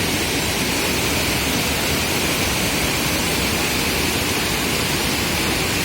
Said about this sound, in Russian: водопад Алибек. Это один рукав водопада.